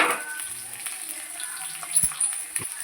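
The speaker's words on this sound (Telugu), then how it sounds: "ఉల్లిపాయలు నూనెలో మరిగేంత వరకు అయితే అలా కలుపుతూనే ఉన్నాను." Chopped onions fry in oil with a soft, faint sizzle while a spoon stirs them, giving occasional light scrapes and clicks against the pan.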